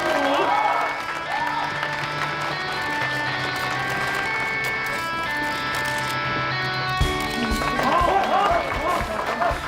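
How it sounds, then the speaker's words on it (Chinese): An audience claps to welcome fifteen beauty influencers onto a stage at a show event, a continuous crowd applause over background music, with voices rising near the start and end. "掌声欢迎。"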